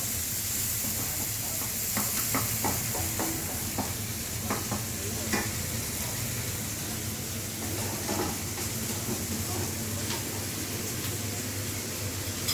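Prawns and greens fry in a pan with a steady, close sizzle and hiss. Intermittent scraping clicks from stirring cut through throughout, and nobody speaks.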